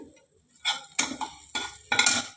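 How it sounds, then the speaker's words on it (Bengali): Dry vermicelli tipped into a metal pan for a coconut sweet seviyan dish, several short rattling clatters in quick bursts, close and crisp, with no talking. "সিমাইগুলো দিয়ে দিচ্ছি"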